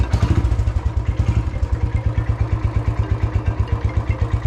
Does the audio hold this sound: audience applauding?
no